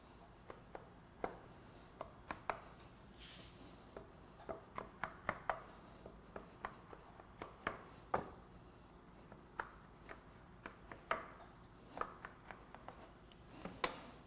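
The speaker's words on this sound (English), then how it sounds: "Then you take a really sharp knife and you score it." A sharp knife scoring layered phyllo dough, a long run of quiet, crisp close taps and cuts at an uneven quick rhythm, with no talk.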